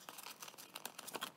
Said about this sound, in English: So I grab my little scissors and I cut all the way up to the top